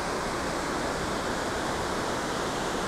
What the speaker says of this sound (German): Das strömt da ganz schön runter